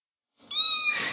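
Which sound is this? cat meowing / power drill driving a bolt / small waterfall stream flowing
cat meowing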